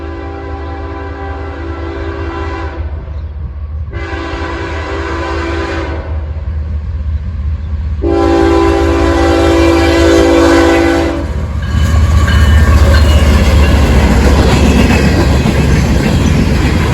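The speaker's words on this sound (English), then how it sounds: "The train we ended up seeing was a CSX southbound empty coal train as it was making a mad dash back to the mines for more loads." A CSX southbound empty coal train rolls past with a steady rumble, its horn sounding three loud blasts, two short and one long, over the growing roar of the passing cars.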